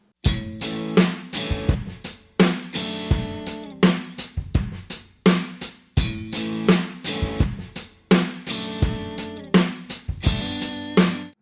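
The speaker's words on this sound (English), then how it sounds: "Now, as you can see from the demo, it was just programmed drums." Song demo built on programmed drums, with steady repeating kick, snare and cymbal hits driving a full music mix, loud and continuous with no talking.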